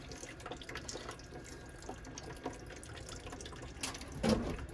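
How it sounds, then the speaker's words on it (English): Water drains slowly from a small electric water heater during repair, a faint steady trickle with occasional drips and a louder splash near the end. "it's still draining. It's draining pretty slowly."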